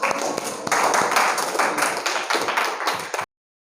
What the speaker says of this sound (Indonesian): Kalau gitu kita beri tepuk tangan untuk kita semua untuk sore hari ini.